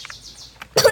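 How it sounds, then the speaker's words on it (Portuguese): A person with flu coughs once, sharp and close, after a moment of faint scattered sounds. "Eu tô tossindo muito"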